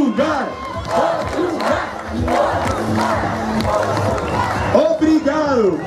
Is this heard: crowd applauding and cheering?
yes